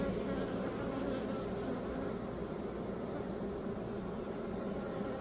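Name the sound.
honey bees buzzing in a beehive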